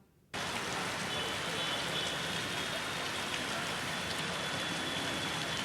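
Heavy downpour pounding the city streets of Jaipur, a dense, steady hiss of rain that starts abruptly and stays loud and unbroken, with faint traffic idling beneath it.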